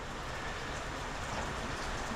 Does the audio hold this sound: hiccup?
no